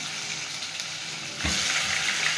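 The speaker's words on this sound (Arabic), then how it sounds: "حطيت معلقه الزبده وحبه زيت وهقلب اللحمه اديها صدمه" Beef hitting a hot pan of butter and a little oil for searing sets off a loud, sudden sizzle partway through, over a steady background hiss, and the crackle keeps going strongly to the end.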